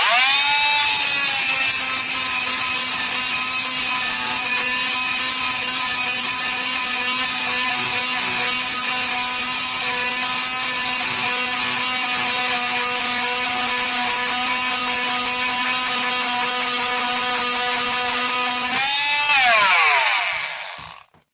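A Ferm oscillating multi-tool blade cuts through a metal nail with a loud, steady high-pitched buzzing whine that holds for about nineteen seconds, then winds down and stops.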